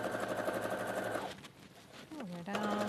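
A sewing machine runs in a rapid, steady stitching burst along a garment's shoulder seam, stops, then starts again briefly, with a voice speaking in between.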